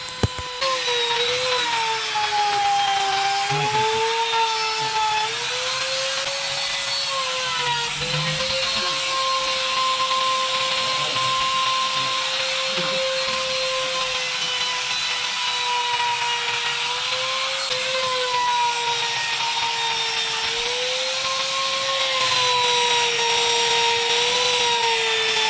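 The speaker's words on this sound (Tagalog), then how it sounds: "Itong trimmer is mas mabilis to" A power trimmer cutting HPL laminate whines steadily and loudly, its high motor pitch wavering slightly as the bit bites through the sheet, with no talk throughout.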